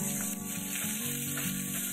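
Cut potatoes and bitter gourd fry in oil in a kadai, giving a steady, soft sizzle with a faint low hum beneath; no voices.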